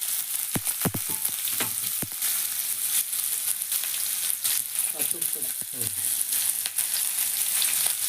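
Onions sauté in a pan for Kerala-style boti fry, giving a steady close sizzle with occasional sharp stirring clatters and scrapes of a spoon against the pan.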